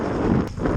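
Strong wind buffeting the microphone at sea off Weston-super-Mare during paddle boarding, a steady, loud rumbling gust that dips briefly midway before surging again.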